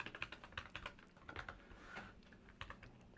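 Quick, uneven bursts of typing on a computer keyboard, close and fairly quiet, with clustered keystrokes and brief pauses in between and no talking.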